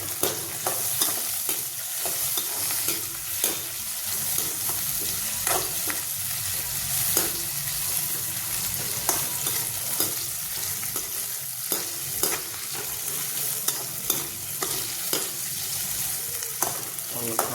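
Onions and cumin seeds fry in a pan with a steady broadband sizzle, while a spoon scrapes and stirs in regular knocking strokes, close up, for a chicken recipe.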